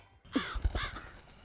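A single crow gives one short, harsh, nasal caw, near and clear, with quiet background on either side.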